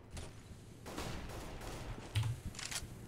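Rapid gunfire bursts from a Counter-Strike match, shots fired through a wall at middle, crackling in several close, repeated volleys over a steady background.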